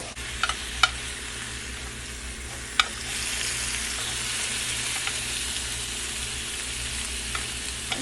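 Steak fries in a pan with a constant, close crackling sizzle, broken early by a few sharp clicks and taps, and no one speaks.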